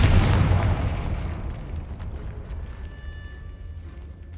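Confringo fire spell in the Hogwarts Legacy video game: a loud fiery blast at the start, then a rumbling decay that fades over several seconds, with a faint tonal ring late in the tail.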